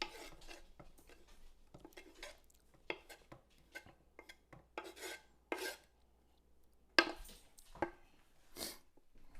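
Chopped pepperoni tipped into a kitchen bowl gives quiet, scattered clinks, taps and soft scrapes at an uneven pace, with no talking.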